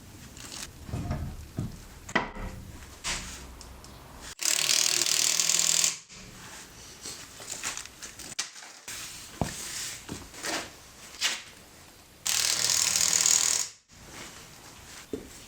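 Ratchet clicking as it tightens lug nuts on a Ford Focus wheel, with close metallic pawl clicks in repeated bursts, two long loud stretches of hiss, and no talk.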